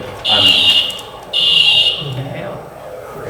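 An office fire alarm sounds in two loud, shrill electronic bursts separated by a short gap, with people talking underneath and after the tones.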